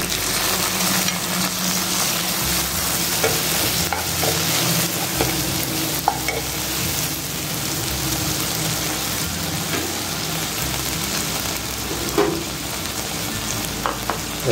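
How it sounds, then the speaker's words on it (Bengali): Onion and tomato sizzle and crackle steadily in a hot pan, loud and close, with occasional scraping as they are stirred. "পেঁয়াজটা লালচে ব্রাউন ভাজা হয়ে গেছে করে এর মধ্যে অ্যাড করলাম টমেটো"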